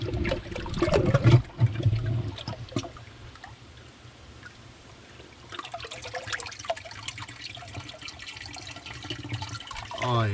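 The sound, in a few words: muddy water gushing out of an unplugged drain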